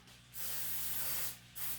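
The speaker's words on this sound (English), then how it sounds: "I'm going to hit that with some non-cooked cooking spray." Nonstick cooking spray hisses from a can in two bursts, a long steady spray followed by a shorter one, loud and close in a quiet kitchen.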